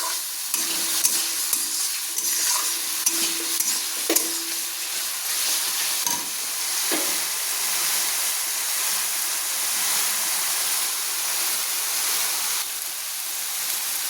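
Onion paste seasoned with turmeric and salt sizzles steadily in a pan while being stirred, a continuous close frying hiss with a few soft scrapes, and no talking.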